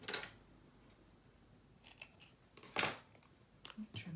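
Scissors trim paper for a recipe mini album: a few quick, crisp snips spaced apart in a quiet room, close and clear with near silence between cuts.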